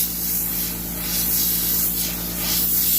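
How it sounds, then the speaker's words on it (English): An expensive airbrush sprays paint onto a shiplap shipwreck-style tumbler: a steady, close airy hiss that swells and eases as the nozzle sweeps back and forth, over a faint low hum. "this is an expensive airbrush"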